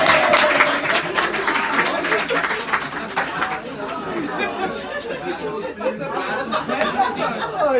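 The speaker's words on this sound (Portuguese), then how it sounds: "E palmas pro Sidão, então." Audience applause at a live presentation, loud clapping at first that thins out into crowd chatter and light laughter, with voices talking over it.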